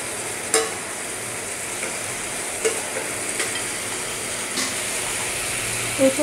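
Potatoes fry in a pan for a Bengali alu posto, cooked until slightly overdone. A steady low sizzle runs throughout, broken by a few sharp scrapes and knocks as they are stirred, with no talking.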